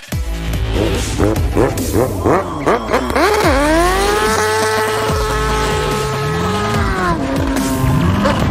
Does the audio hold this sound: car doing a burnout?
yes